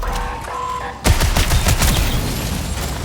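Gunfire in the video game Marathon erupts after a second of quiet, a dense burst of rapid shots that keeps rattling on at close range.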